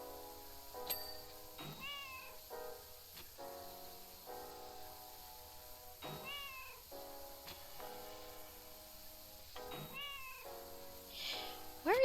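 Repeated meows from a cat in the game PowerWash Simulator 2, a series of clear, moderately loud calls spaced every couple of seconds over a steady background hum, no talking.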